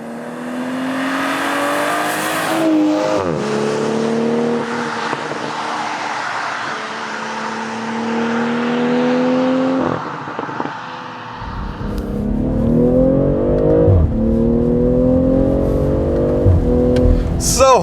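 A BMW M340i xDrive engine revs and pulls on a wet day, rising and falling through several gears, loud and close, with tyre hiss on wet road and a deeper rumble near the end.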